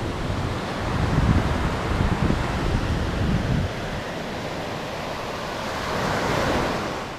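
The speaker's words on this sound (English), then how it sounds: "We are in Bellows Beach. And it's beautiful here." Ocean waves roll in at Bellows Beach, a steady broad wash of surf with gentle swells and some wind buffeting the microphone.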